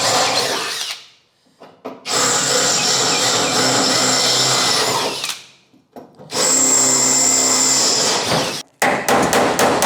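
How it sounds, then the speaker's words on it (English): Power drill boring out spot welds on the body of a 1973 Mazda RX4 project car, in two long loud whining bursts with a short pause between and brief stuttering starts at the end, very close. "So what I'm going to do is drill out the spot welds, retain this bracket"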